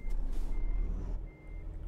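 A truck in Euro Truck Simulator 2 rolls into a repair workshop, its deep engine rumble steady beneath a repeating high reversing beep, close and continuous.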